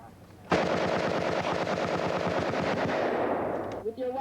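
A rifle fires on automatic during army weapons training at Fort McClellan, a loud, rapid burst of shots lasting about three seconds with echo trailing off, followed by faint talk.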